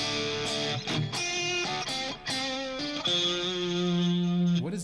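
Electric guitar through a Mesa LoneStar amp sim with compulsive drive pedal, playing sustained, distorted chords and single notes with rich harmonics, loud and continuous with short gaps between phrases and no talk.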